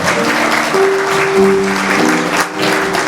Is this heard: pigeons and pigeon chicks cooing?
no